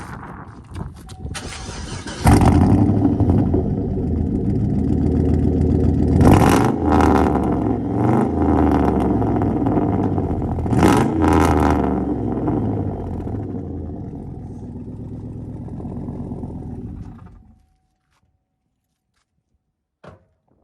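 A lifted Chevy Silverado on 26-inch wheels with glass pack exhaust cranks and starts. It settles into a loud, rumbling idle with several deep revs close by, then cuts off abruptly.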